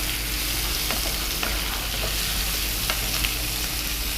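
Capsicum frying in a pan in a home kitchen while aloo green masala is being made, giving a steady close sizzle with occasional soft stirring scrapes and no talk.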